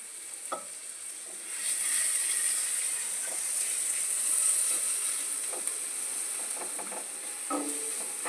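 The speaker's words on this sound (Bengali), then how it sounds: "হালকা রসুনটা একটু হালকা করে ভাজা হবে" Garlic frying gently in melted butter over a low gas flame for white sauce pasta, a steady close sizzle and hiss with occasional stirring scrapes of a spoon in the pan.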